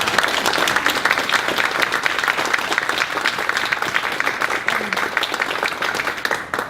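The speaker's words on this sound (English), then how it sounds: "So let's give our candidates a round of applause." Applause for election candidates at an evening gathering: a loud, sustained crowd clapping with sharp individual claps peppered through, continuing unbroken to the end.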